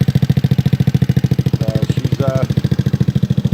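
Yerf Dog GX150 go-kart engine idling close up, a loud rapid even putter of regular firing pulses with slight roughness, running steadily with a faint voice-like tone briefly over it midway.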